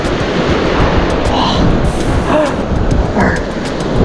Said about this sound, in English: Man, those waves.